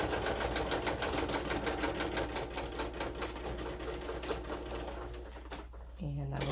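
A sewing machine runs steadily while stitching a bag seam at a 3 stitch length, with a continuous fast mechanical whir that stops near the end. A voice talks over it.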